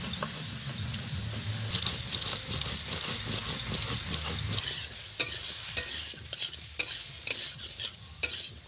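Cauliflower florets fry in a pan, a soft sizzle under repeated scraping and clinking of a utensil stirring against the metal, the stirring growing sharper and more spaced toward the end.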